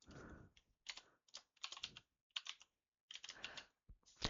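Fingers type on a computer keyboard while entering code, tabbing lines over to align them. Bursts of quick, crisp key clicks come close up and are separated by short silences.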